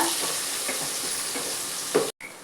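Garlic and onions fry in hot oil for a fish curry, a dense, even sizzle throughout that cuts off abruptly just before the end.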